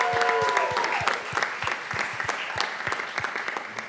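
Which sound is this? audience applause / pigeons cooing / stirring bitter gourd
audience applause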